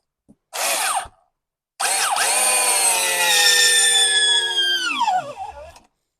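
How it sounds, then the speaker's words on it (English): A Makita 6010D corded drill with a keyed chuck drives a 2.5 inch No. 10 screw until it is countersunk. A short burst and a pause come first, then a long, loud, close motor whine that drops in pitch as it winds down and stops. "Quite torquey. Didn't really have any bother getting this screw in."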